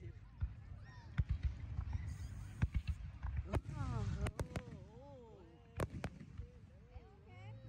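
Fireworks bang on the Fourth of July, with several loud, close sharp blasts and crackles scattered through a noisy outdoor scene as people talk over them.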